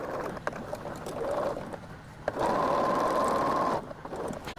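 A sewing machine runs through heavy quilt fabric in short bursts, with a longer steady hum near the middle, close and moderately quiet, broken by small handling knocks and pauses.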